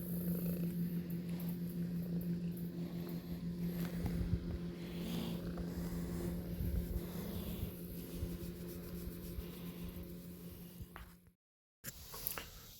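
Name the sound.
cat purring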